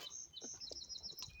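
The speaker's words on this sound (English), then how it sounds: "the trees are becoming more and more visited by these cute birds" Small birds chirping in trees as a thaw sets in, a quick series of bright, high tweets repeating close together, moderately near and alone without talk.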